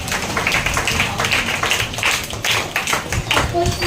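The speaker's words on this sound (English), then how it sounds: "Give her a big round of applause." A short round of clapping for a student at a school assembly, a small crowd applauding in quick, uneven claps that run steadily for a few seconds.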